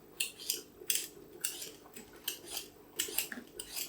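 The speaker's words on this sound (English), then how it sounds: "I've got some spuds. I'm peeling them." Potatoes being peeled by hand in a kitchen, a run of short, crisp scraping strokes, about two per second, close and fairly quiet with no talking.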